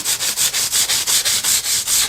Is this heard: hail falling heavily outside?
no